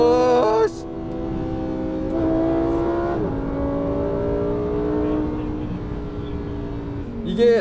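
A Lamborghini Huracán EVO accelerates hard on a race track, its engine note climbing through steady harmonic pulls with a brief shift dip midway, loud and close with a flare of revs at the start and end.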